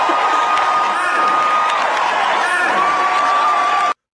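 A large crowd cheers and applauds loudly in a dense, continuous roar with whoops, holding steady for about four seconds before cutting off abruptly.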